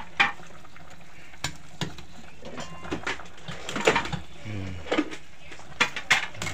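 Stirring sinigang na bagbet in a cooking pot: intermittent scraping and clinking of a utensil against the pot in irregular strokes over a soft simmering background, fairly close, with no talk.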